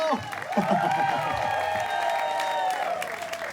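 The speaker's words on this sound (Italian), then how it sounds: "Sentiamo l'applauso." Applause and cheering from a crowd at an outdoor summer concert in Piazza Milano, Jesolo, steady and dense throughout, with voices and sung or shouted tones riding over the clapping.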